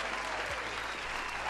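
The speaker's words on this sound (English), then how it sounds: "let's give a round of applause to Pokeniner" Steady applause from a gathered group, continuous and fairly close throughout the short stretch with no pauses or voices standing out.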